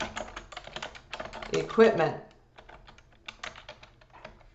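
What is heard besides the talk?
typing on a computer keyboard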